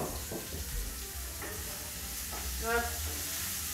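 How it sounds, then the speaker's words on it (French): A spoon stirs quiche filling of asparagus, zucchini and parmesan in a bowl, giving soft, irregular wet scraping and clinking strokes at close range, with faint voices murmuring in the background. "Je mélange un peu ici."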